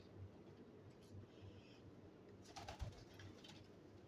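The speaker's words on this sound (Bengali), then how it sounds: "আমাদের কবুতর" Pet pigeons cooing softly, a few low coos over a quiet hum with a brief flutter or knock near the end.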